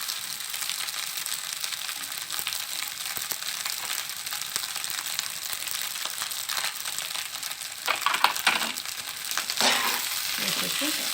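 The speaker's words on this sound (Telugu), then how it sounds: "బాగా ఫ్రై అయ్యాక ఇప్పుడు స్టార్ మసాలా వేసుకోండి" Egg fried rice with star masala sizzles steadily in a hot pan, a dense close frying hiss broken by bursts of scraping and stirring toward the end.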